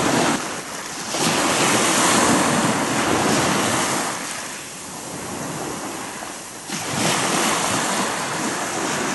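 Ocean surf washing ashore at Nijigahama beach in Hikari, Japan, at sunset, with a boat passing offshore; loud continuous wash of waves rising and falling in swells, with wind buffeting the microphone and no voices.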